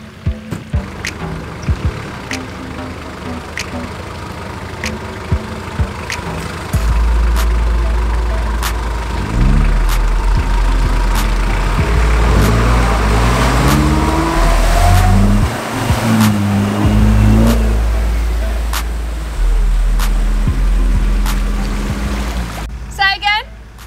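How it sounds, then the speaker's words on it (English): A car engine idles, then revs and rumbles steadily nearby, with a few clicks and people talking over it, as the car is readied to tow another vehicle out of a bog on a trail. "just reversed his car around, ready to pull us out"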